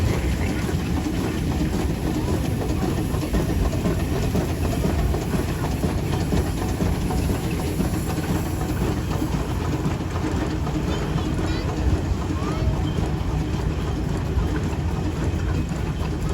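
A 1910 steam showman's engine, the Outlaw, rumbles along in a hot-weather steam rally parade, a loud, steady mechanical chug and clatter that runs unbroken throughout with no clear voices.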